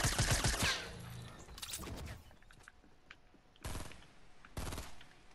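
Gunshots in the video game Fortnite Battle Royale, several sharp loud cracks and short bursts spread irregularly over a few seconds, with quieter mechanical clicks and game noise between them.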